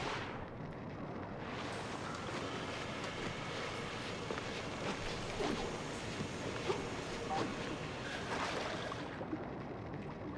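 Water waves wash continuously in the video game Mouse P.I. For Hire, a steady, rushing surf-like roar that swells slightly in places and stays fairly quiet throughout.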